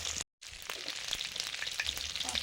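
Rohu fish head frying in hot oil for a pumpkin curry, a steady close crackling sizzle filling the clip after a brief silent gap near the start.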